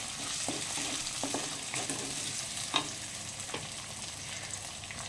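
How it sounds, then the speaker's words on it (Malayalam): Chicken gravy ingredients being stirred in a frying pan, a steady close sizzle broken by repeated spoon scrapes and clacks against the pan, with no voices. "ഇനി നമുക്കൊന്ന് മിക്സാക്കി കൊടുക്കാം"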